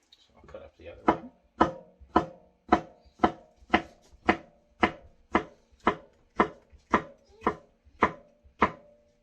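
A knife chops through a jalapeno pepper on a cutting board for pickled red onions, with about fifteen crisp, evenly spaced strokes that are close and loud, and no talking.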